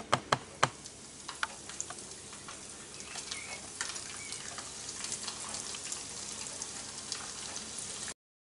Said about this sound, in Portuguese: O meu óleo já está quente, eu vou começar a fritar.